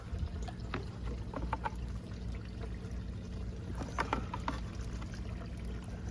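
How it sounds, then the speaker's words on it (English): Water trickles and pours steadily through the filter of an aquaponic system, a soft continuous flow with scattered small splashes and drips over a low hum, faint and close, with no voices. "Water goes through that filter"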